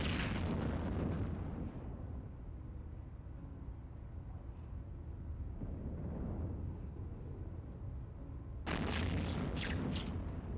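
Cruise missiles detonate in EVE Online space combat: a booming explosion opens, then a lower rumbling stretch with another swell, and a fresh sharp blast near the end, with no voices over it.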